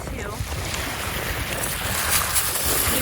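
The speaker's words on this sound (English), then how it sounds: "You hear the shells, you hear the wind." Wind buffets the microphone on a Keewaydin Island beach in southwest Florida, with soft crunching of shells through a steady broadband rush and a voice briefly audible.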